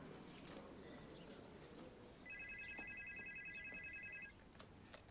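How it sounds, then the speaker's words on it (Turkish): A telephone rings in a Turkish film scene, a faint electronic trill that sounds once for about two seconds over a quiet room with scattered background noises. "Hayırdır, telefon çaldı."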